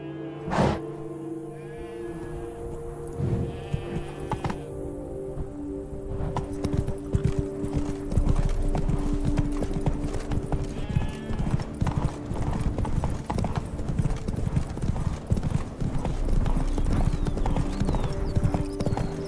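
Horse hooves gallop steadily in The Witcher 3, a fast rhythmic clip-clop that starts after a brief quieter opening and stays loud and close, with a short whinny-like sound early on and no talk.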